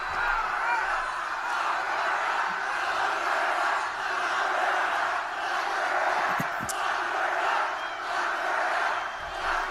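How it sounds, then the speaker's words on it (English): A large political rally crowd chants "lock her up" in unison at a Trump speech, a steady, heavy roar of many voices that stays loud and continuous, heard at some distance without individual speech standing out. "Crowd is chanting, "Lock her up, lock her up, lock her up.""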